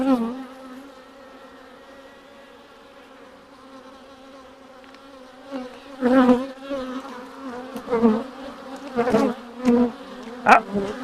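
Honeybees buzzing steadily around an open beehive, a dense close drone with louder passes of individual bees near the end.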